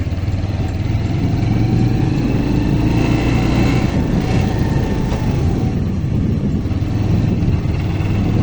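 Car engine revving and pulling away during a driving lesson in the Aftabnagar residential area, a steady loud mid-range hum that rises slightly, with no speech over it.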